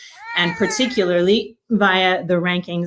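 A cat meows loudly and close in two drawn-out, wavering cries over a speaker talking about university rankings during an online conference session.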